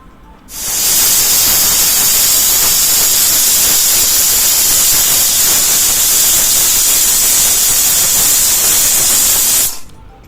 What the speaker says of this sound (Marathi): हे व्यवस्थित कुकरचं झाकण लावून आपल्याला याच्या तीन सिट्ट्या काढून घ्यायच्या आहेत